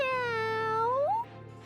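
Cat meowing in the Tales of Graces F video game, a single clear, drawn-out meow that rises at the end, followed by faint background sound.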